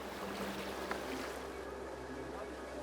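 Gentle water sloshing and lapping under a steady low hum as a kayak is paddled by foot, with a faint knock partway through.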